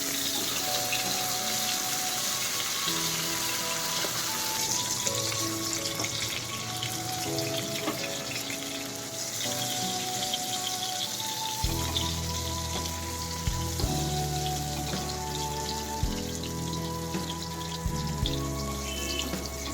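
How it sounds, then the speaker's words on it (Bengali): Prawns fry in hot mustard oil with a steady crackling sizzle, continuous and close, with a low hum and clinking underneath. "লবণ হলুদ মাখানো চিংড়ি সেগুলো আমি একটু ভেজে নেব এপিটোপিট করে"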